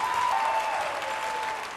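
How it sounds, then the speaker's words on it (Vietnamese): A television studio audience applauding, steady dense clapping at moderate volume that fades slightly toward the end, with a faint sustained tone underneath. "Cho Hoàng Bách một tràng pháo tay cơ quý vị."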